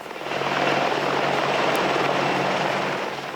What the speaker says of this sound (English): We travel alongside them in a Black Hawk command ship.